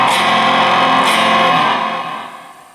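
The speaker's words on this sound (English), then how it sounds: "We've got ring modulator." Zoom G2G George Lynch signature multi-effects pedal running its ring modulator on an electric guitar: a sustained, metallic, inharmonic chord with a fresh pick attack near the one-second mark, fading out over the last second, heard alone.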